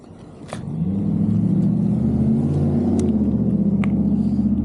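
A Wolf King GT Pro electric scooter pulls away on its finger throttle during a riverside ride, its motor rising into a steady, loud rumbling drone with wind noise and no voices.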